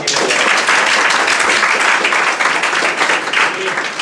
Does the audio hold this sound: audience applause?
yes